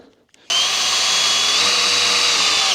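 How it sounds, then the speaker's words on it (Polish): An auger wood drill bit with a 1/4-inch hex shank bores into wood, starting abruptly after a short pause and running as a loud, steady, close-up whine with a grinding edge. "to wiertło teraz idzie dobrze"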